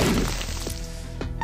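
A bomb explodes in The Binding of Isaac with a heavy, muffled thud right at the start that quickly decays, followed by a couple of faint knocks.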